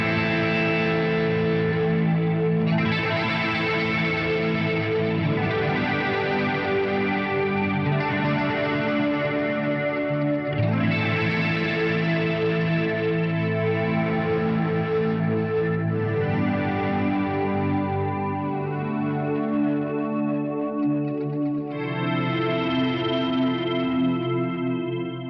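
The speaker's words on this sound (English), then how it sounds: "the stereo flanger placed after the reverb and the delay" Electric guitar run through a stereo flanger placed after reverb and delay, giving a dreamy shoegaze wash: sustained, swirling chords with sweeping comb-like modulation, loud and continuous with no talking.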